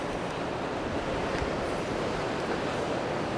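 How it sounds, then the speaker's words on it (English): Ocean waves wash steadily along a rocky coastline with wind buffeting the microphone, a continuous broadband roar with no speech. "Oh, look at those waves."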